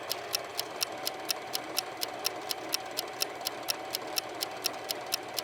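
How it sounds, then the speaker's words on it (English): A sewing machine running a chain stitch on tailored jeans, with a steady, even ticking of regular needle strokes, about four per second, at low, constant volume and with no talk. "being hunched over your sewing machine for 8 minutes, just kind of watching it do its thing"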